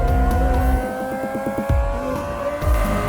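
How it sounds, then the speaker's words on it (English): Car engine in the BeamNG Drive driving game accelerating at half throttle, with a damaged engine, a loud steady tonal drone with rising harmonics and a rapid revving flutter midway, running continuously throughout. "let's continue going at half of our throttle input, so we are slowly accelerating"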